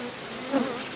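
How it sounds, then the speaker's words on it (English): Honey bees crowd the lid of an open beehive stacked with full honey supers, giving a brief, close buzz that swells for a moment. "Bees on the lid"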